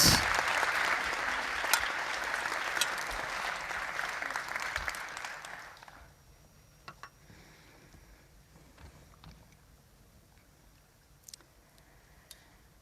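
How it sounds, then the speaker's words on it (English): Audience applause for the space cadets, a full crowd clapping loudly for about six seconds before fading, followed by near silence with a few scattered faint taps. "Big round of applause for our space cadets."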